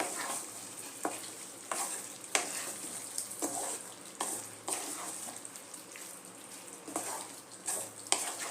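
Cashew paste being stirred into chicken lababdar curry in a hot pan, with steady sizzling and frying and repeated scraping strokes of a spoon throughout, close and fairly loud.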